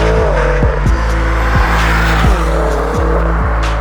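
Twin turbo V8 BMW M6 driven hard, its engine rising through revs in repeated bursts with sharp gear-change drops between them, loud and close, with a faint tire note underneath.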